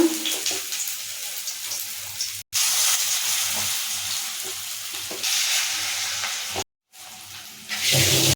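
Fritters of elephant foot yam stalks and leaves sizzle and crackle as they fry in mustard oil in a kadai, a loud steady hiss broken by two brief gaps of silence.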